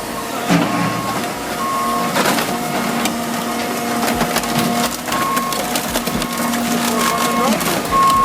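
An Ansta Biomass AB car crusher crushes cars with a loud, steady grinding and crunching roar, metallic creaks and sharp repeated knocks, overlaid by a droning whine and a steady low machine hum.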